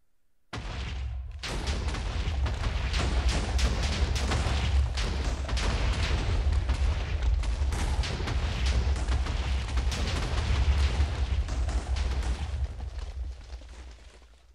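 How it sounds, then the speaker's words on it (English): Massive chain of TNT explosions in Minecraft, blowing out a large stretch of a Nuketown map: a continuous, deep, roaring rumble of blasts sustained for over ten seconds before tailing off, with no voices. "It wasn't exactly the original Nuketown explosion"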